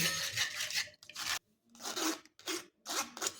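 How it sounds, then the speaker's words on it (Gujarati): Tomato soup pulp is pressed and rubbed through a strainer with a spoon in rhythmic, close, raspy scraping strokes, each lasting under a second and separated by short silences, with no voices. "આ રીતે આપણે અહીંયા ગાળીને બધું લઈ લેવાનું છે"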